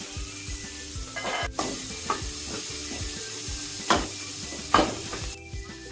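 Chopped onion and green chilies frying in a pan while a spatula stirs, a steady close sizzle punctuated by rhythmic scraping strokes and a few sharper metal clinks, with no voices.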